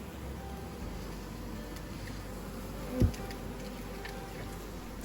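A honeybee colony in a fallen tree produces steady, dense buzzing close by, with a brief louder thump partway through.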